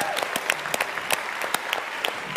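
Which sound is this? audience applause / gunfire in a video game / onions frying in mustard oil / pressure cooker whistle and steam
audience applause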